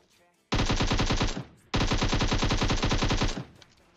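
Cheap looted guns fire in PUBG Mobile: two long, loud bursts of rapid automatic gunfire, the second starting after a short gap, with no talk over them.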